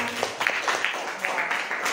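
A classroom of students claps after their teacher asks, a soft, fairly even patter of hands with light voices murmuring beneath it.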